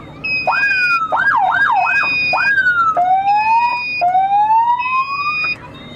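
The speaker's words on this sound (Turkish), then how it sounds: "Sirenimizi de açalım abi." A loud wailing siren sweeps up and down in quick yelps, then shifts to long rising tones, close and uninterrupted.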